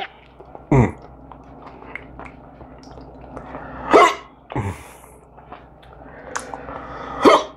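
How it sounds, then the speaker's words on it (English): Loud, close hiccups from a person during a spicy chip challenge, several sharp individual hiccups spaced a few seconds apart with quieter mouth and swallowing sounds between them, no speech. "Oh, there's hiccups."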